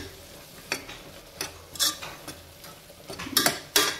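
Chilli powder fries in a pan for tomato rice bath, with intermittent scraping stirs and clinks over a low sizzle, close and fairly loud.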